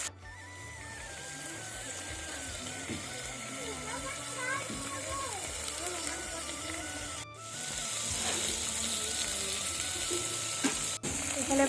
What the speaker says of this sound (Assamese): আমি তিলৰ সৈতে আকৌ ভাজিম ধুনিয়াকে অলপ সময়ৰ কাৰণে এনেকে ভাজি থাকিম